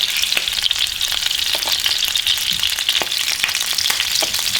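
Italian meatballs brown in a hot pan, producing a loud, steady, close frying sizzle with crisp crackles and pops throughout, no voices.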